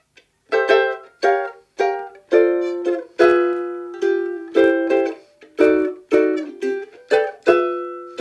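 A jazz ukulele picks out a chord-melody intro to a tune, with clear strummed chords spaced in a gently syncopated rhythm, each one ringing briefly before the next.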